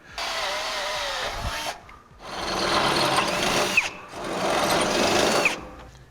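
Three bursts of a high-pitched power drill whirring as it bores a pilot hole through a steel box frame of a Ram pickup truck, separated by short pauses.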